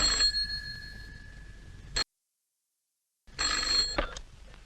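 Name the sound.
telephone ringing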